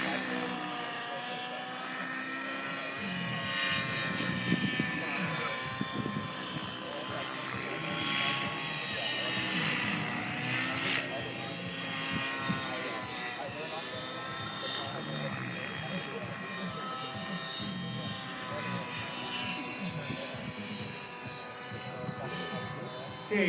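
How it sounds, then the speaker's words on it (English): An RC model helicopter flying aerobatics backwards and upside down at a model airplane show, its rotor and motor whining and surging at middle distance under steady talk. "Right now with the airplane basically backwards and upside down."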